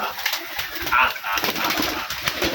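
Domestic pigeons of an old Rajshahi highflyer breed at a loft, with soft coos and calls and a brief flutter of wings mixed under someone talking.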